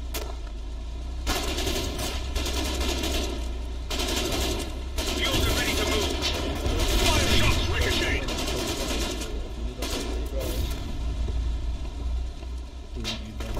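Sustained automatic weapons fire and scattered shots from a Foxhole battle, with tanks around, rattling in dense overlapping bursts across the whole stretch, loud and close under shouted voices.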